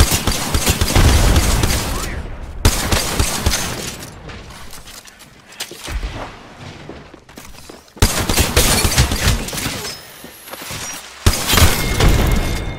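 Grenade explosions and gunfire fill an Apex Legends match, with loud, repeated blasts and rattling bursts crowding close together across the whole stretch.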